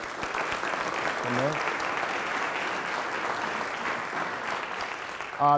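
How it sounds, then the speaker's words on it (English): Steady applause from an audience at a civic State of the City address in Parma, Ohio, sustained clapping with a brief voice near the start and end. "Please give him a round of applause for that."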